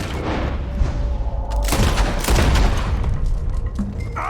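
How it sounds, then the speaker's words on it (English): Gunfire in the Western video game Red Dead Redemption 2 cracks out in a loud burst of several booming shots with echoing tails, fading into quieter ambience, with no talk over it. "I guess I gotta shoot his weapon out of his hand."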